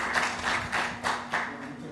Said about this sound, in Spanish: Un aplauso, por favor, para Ricardo